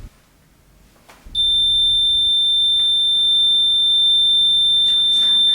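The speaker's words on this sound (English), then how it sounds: "That sounds like a fire alarm" A REM pod ghost-hunting device bursts into a piercing, steady electronic alarm tone like a fire alarm about a second in, then holds loud and unbroken to the end.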